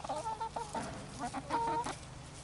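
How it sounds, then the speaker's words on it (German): Several chickens cluck softly nearby on a rural Hungarian farmyard in autumn, a steady stream of short, overlapping clucks with no talk. "Sehen diese Hühner aus,"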